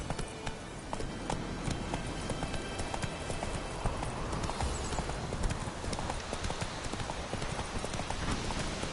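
Roach the horse gallops in a video game, a steady, close clip-clop of hooves running without pause over dense ambient noise, with no talk.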